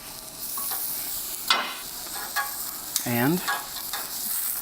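Onions hit a hot pan for a chimichurri steak salad and sizzle with a steady loud hiss close by, broken by a few clinks and scrapes of a utensil, with a brief voiced sound partway through.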